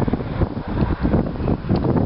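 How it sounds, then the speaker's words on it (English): Strong wind buffets the microphone atop the medieval town walls of Alcudia, Mallorca, a steady loud rushing roar with gusty swells and no talking. "oh, it's getting really windy up here"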